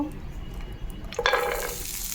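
Raisins, almonds and cashews frying in ghee, a low quiet background at first, then a sudden burst of sizzling as the nuts hit the fat, continuing as a steady close frying hiss.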